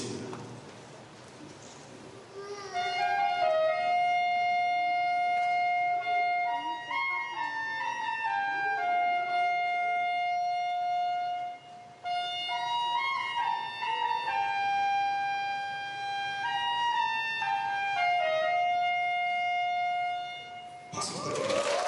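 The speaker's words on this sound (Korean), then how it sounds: "우리 소프라노 색소폰의 소리를 한번 들어보시겠습니다" Students play a soprano saxophone at a concert celebrating the Gangwon provincial sports festival in Hongcheon, with clear sustained notes moving through a slow melody and held tones, heard alone and fairly close, ending in a short burst of noise.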